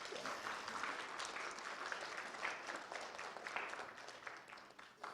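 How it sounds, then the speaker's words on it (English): Audience applause at a Native American regalia fashion show, a steady dense wash of clapping that holds for several seconds at an even level, fading slightly toward the end. "Let's give them a quick round of applause for everybody coming out and do this."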